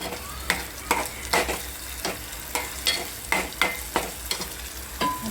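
Masala for matki curry roasts in a pan, a close, steady sizzle broken by regular scraping strokes of a spatula about twice a second, with no voices.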